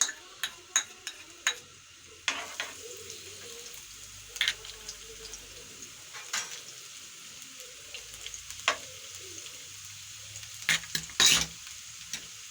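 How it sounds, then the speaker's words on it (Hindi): Garlic cloves sizzle and crackle as they fry in a hot pan for a dhaba-style masoor dal tadka, with sharp clatters of stirring at irregular intervals over a low steady fry, no talking. "हमारा लहसुन फ्राई हो चुका है"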